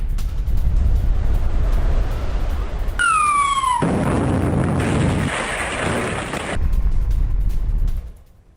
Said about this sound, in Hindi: सूमी में वेपन स्टोर में धमाका हुआ है